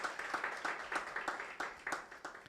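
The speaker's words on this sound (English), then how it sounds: "Let's give a round of applause." Applause at a university ranking press briefing in Ghana, a fairly quiet ripple of clapping hands with soft repeated bursts, somewhat distant.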